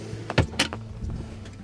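Storage drawers sliding in a Land Rover Defender fitted out with compressed ply cabinets and pull latches: two quick sliding thumps close together, then softer rumbling movement, fairly near.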